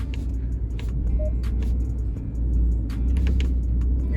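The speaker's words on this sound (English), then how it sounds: "what I do is just kind of go back and forth, the gears a little bit, make sure it's shifting good" A 2017 Jeep Grand Cherokee runs with a steady low engine rumble while its gears are shifted back and forth, with faint clunks and small shifts in tone, heard up close and alone.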